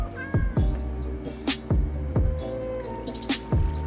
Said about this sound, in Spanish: Le pongo un creeper y un gato para asustarles.